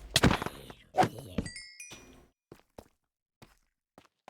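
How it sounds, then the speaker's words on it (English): A placed torch is broken in Minecraft, heard as a few short thunking knocks up front, followed by sparse faint clicks and taps in quiet. "Accidentally broke a torch I placed"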